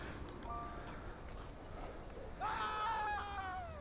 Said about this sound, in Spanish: Hostia, se oyen gritos